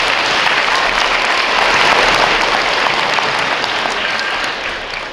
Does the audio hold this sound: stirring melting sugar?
no